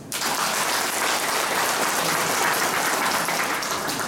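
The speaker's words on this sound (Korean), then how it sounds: "박수 한번 쳐보세요" A lecture hall crowd at a forum talk applauds in a thick, continuous wash of clapping, loud and even throughout with no talking over it.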